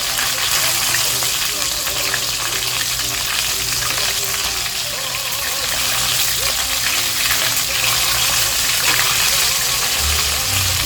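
Chicken pieces fry in hot oil for a golden fried chicken sandwich in a home kitchen, giving a loud, steady, dense sizzle and crackle that continues throughout with faint background noise.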